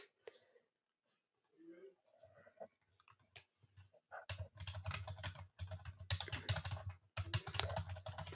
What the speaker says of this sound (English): I know you guys can hear me typing.